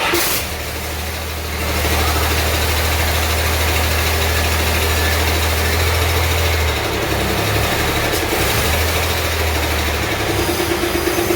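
A Cummins 6BT diesel engine in a rat rod fires up and settles into a loud, steady, rumbling idle close by, running without a break.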